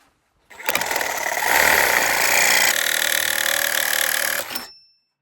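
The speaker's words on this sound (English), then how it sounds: "There's not enough room in there for the reciprocating saw to reciprocate." A reciprocating saw cuts into the frame of an old sawmill, giving a loud, continuous buzzing rasp that runs for about four seconds and then stops abruptly.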